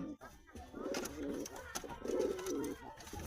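Soft, low pigeon coos repeat in a couple of throaty phrases, close by, with faint background noise between them.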